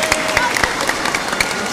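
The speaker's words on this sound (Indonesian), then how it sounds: "tepuk tangan untuk dia." Applause from a church congregation during a sermon, brief scattered clapping with sharp individual claps standing out over room noise and some voices.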